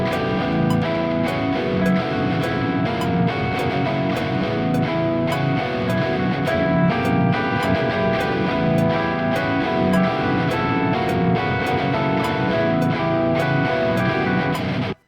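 Reworked clean guitar parts in a metal song inspired by the Dark Souls Asylum Demon boss, layered over full band with steady drums, a dense continuous loud mix with no talking.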